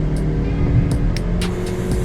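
A 2020 Honda Civic RS Turbo facelift accelerates hard in sports mode, its engine drone steady and loud from inside the cabin, with brief higher whines over the short stretch.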